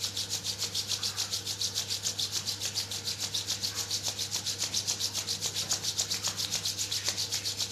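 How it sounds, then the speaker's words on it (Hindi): Palms rubbed briskly together during a yoga session, a close, steady rhythmic swishing that repeats rapidly and evenly for several seconds over a low constant hum, with no one speaking. "Now rub your palms together."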